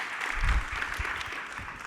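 Audience applause for a panel at a Toronto talk on architecture and carbon emissions, steady clapping from a room of people lasting about two seconds without any talk over it.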